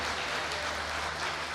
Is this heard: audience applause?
yes